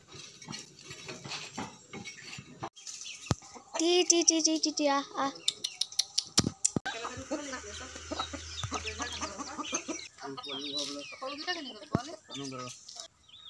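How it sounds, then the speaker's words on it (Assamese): Domestic chickens cluck and peck at scattered rice near a house, with irregular close clucks, short cackles and pecking taps, while a person talks intermittently. "এইকেইটা আমাৰ ঘৰৰ মুৰ্গীয়ে ধুনীয়াকৈ চাউল খাই আছে"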